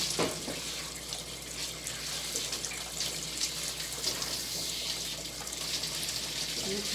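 Running water rinsing a dog being groomed, a continuous close hiss and splash of spray that stays steady throughout with no talking.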